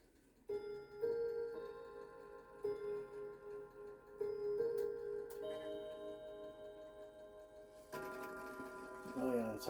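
A Philip Haas & Sohn bracket clock, running out of beat after servicing, ticks with an uneven rhythm. The ticks come close and distinct under a steady ringing hum, and a voice speaks faintly in the background.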